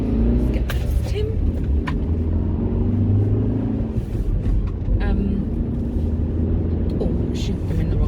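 A car drives along a road while overtaking a lorry, with a steady low engine and tyre rumble throughout as a person talks over it.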